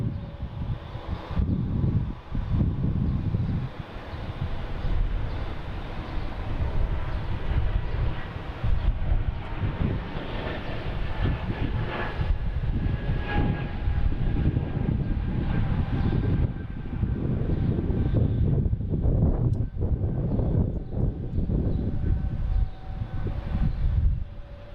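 An Airbus A220 airliner departs Boston Logan for LaGuardia, its jet roar swelling and fading in the distance with wind noise across the open airfield.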